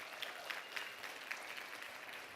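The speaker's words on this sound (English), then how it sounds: "Please give them a round of applause." Applause from an audience at a talk on mental wellness, soft and somewhat distant, with a steady patter of many hands and a few sharper individual claps standing out.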